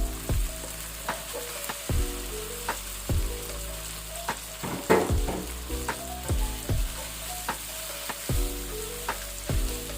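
Potatoes and liver frying in a new Carote frying pan, a steady sizzle punctuated by repeated scraping and clanking of a utensil stirring against the pan every second or two.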